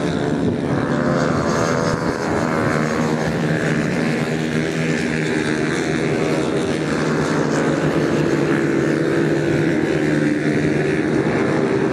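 Racing motorcycles lapping a large circuit at the Calafat track during a national cup race session, a steady, loud, continuous engine roar holding throughout without a break.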